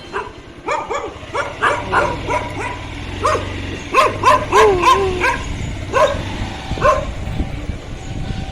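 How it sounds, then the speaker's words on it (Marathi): Dog barking near a beach at Rangaon, Vasai, a run of short, fairly close yips and barks in bursts with brief pauses, over outdoor background noise. "अरे डॉगी बघ भुकायला लागले"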